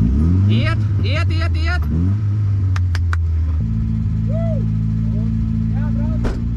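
A rally car engine at a mini rally event is turned over on its starter and then settles into a loud, steady idle drone. People talk in short bursts over the engine noise.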